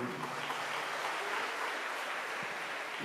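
An audience at a mimicry show at a Kannada festival in Singapore claps for a few seconds, a dense and steady patter of many hands that sounds fairly distant and subdued.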